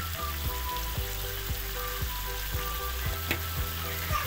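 Chicken masala sizzling and frying in a pan, a steady close crackle with regular stirring scrapes about every half second, no voices.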